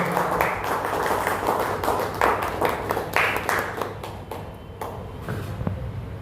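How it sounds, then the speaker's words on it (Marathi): Audience applause at a workers' union protest meeting, a crowd of hands clapping in a loose, uneven patter over low background hum, thinning into a few sharp separate claps near the end. "वाईकर सरांसाठी एक जोरदार टाळ्या"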